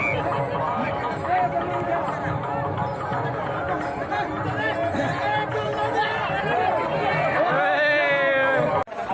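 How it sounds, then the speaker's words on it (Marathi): A huge crowd of Warkari pilgrims fills the Ringan ground, a dense steady babble of many voices, shouts and chatter all around at close range. "प्रचंड गर्दीमध्ये सगळे वारकरी रिंगण मैदानाच्या आतमध्ये जाण्याचा प्रयत्न करत होते"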